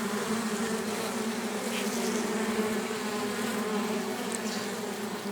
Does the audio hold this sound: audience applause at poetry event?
no